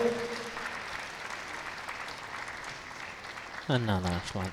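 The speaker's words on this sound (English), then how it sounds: "On peut les applaudir bien pour l'équipe de Singapour." Applause from spectators at a men's tchoukball Nations Cup match between France and Singapore, a steady wash of clapping across the hall, with a voice breaking in loudly near the end.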